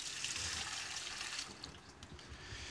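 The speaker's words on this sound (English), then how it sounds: "I'm going to put some water in first to get it started." Water pours into a pot of rice for cooking, a continuous splashing stream at low volume that shifts slightly partway through, with no talking.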